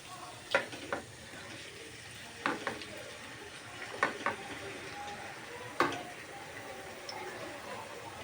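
Potatoes and spring onion greens go into sizzling masala in a pan, with several separate clattering drops and scrapes over a quiet, steady fry.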